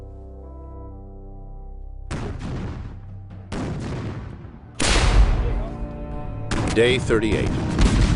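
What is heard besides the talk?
cannon barrage artillery fire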